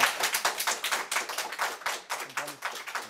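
Applause breaks out from the public gallery of a courtroom as a judge dismisses a charge: a steady, dense run of hand claps at close range, with no voices over it.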